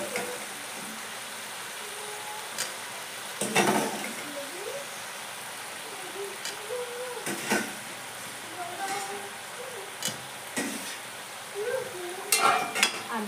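Ingredients are added to a bamboo shoot chicken curry in a pan, giving soft scrapes, stirring and a few sharp clatters at moderate distance while someone talks over it.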